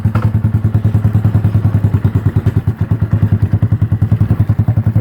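A 1974 Honda XL125 motorcycle engine runs steadily at idle, loud and close, with a rapid, even thumping exhaust beat and faint mechanical clatter.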